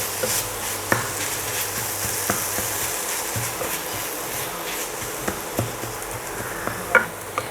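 Tomatoes sauté in a pan for Chettinad kuzhambu, giving a steady soft sizzle and hiss close by, with occasional light clicks and scrapes of stirring and no talk.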